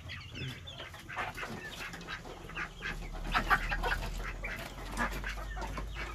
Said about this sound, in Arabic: كذلك يوجد تسعة كتاكيت من الدجاج الكبري